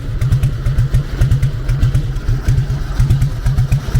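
A Harley-Davidson Fat Boy engine idles close by with a loud, lumpy, rhythmic thumping pulse that stays steady throughout.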